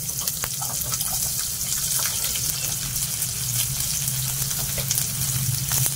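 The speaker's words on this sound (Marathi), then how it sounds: "कांदा चांगला भाजून घ्यायचा आहे।" Onion fries in two to three spoons of oil in a pan with a loud, continuous, close sizzle and occasional faint stirring scrapes. No one speaks.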